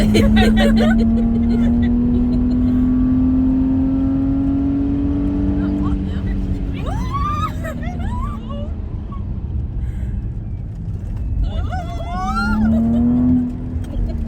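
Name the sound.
race car tire squeal on a racetrack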